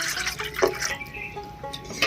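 Water poured into a bowl to start the tangy water for fuchka, a thin splashing trickle with faint dripping over about two seconds, close and moderately quiet.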